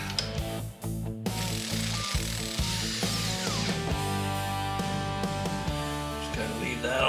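Ratchet clicking steadily while a motorbike's main nut is worked loose, a close mechanical rattle with a low background hum and no talking.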